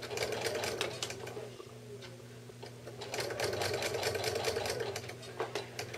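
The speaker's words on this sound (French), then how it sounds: "Donc, je continue de coudre comme ça, juste à temps que j'arrive à l'autre extrémité du début de ma bordure de finition." A sewing machine stitches the finishing binding on a quilt, a continuous close mechanical chatter with a fast, even needle rhythm and a steady motor hum.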